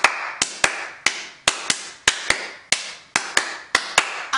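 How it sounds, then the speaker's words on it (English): Hand claps from a church congregation, a few sharp, loud claps spaced unevenly, each with a short echo, and no talking. "Clap your hands."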